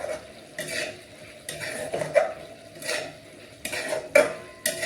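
Potato bhaji is stirred in a pan, with repeated scraping strokes of a metal spoon against the pan coming in rhythmic bursts over a soft sizzle.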